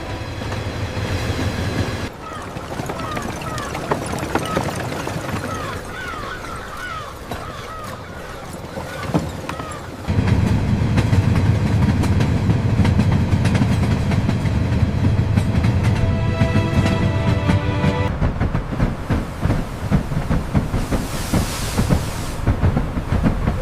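A train running on rails at a fruit juice factory, a steady rolling rumble with rhythmic clatter that grows louder and fuller midway, carrying on alone without talk.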